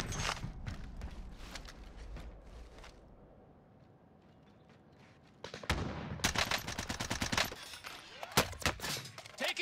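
Automatic gunfire in a Warzone Rebirth Island quads match: rapid bursts crackle at first, fall to a quieter lull, then return louder and denser as fast machine-gun fire with footsteps mixed in.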